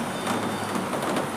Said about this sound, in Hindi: अभी मैं मीठू इन बारिश की बूंदों को एंजॉय करते करते अपना चना खाएगा।